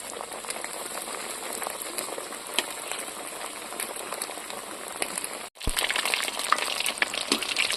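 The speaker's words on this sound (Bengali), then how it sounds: "এবারে একটা একটা করে তেলে দিয়ে দিচ্ছি। এখানে তেলটা ভালো হিট রাখতে হবে" Bombay duck (loitta) fish cutlets frying in very hot oil: a steady, dense crackling sizzle that holds close and loud throughout, with a brief dip before it surges back stronger as another piece goes in.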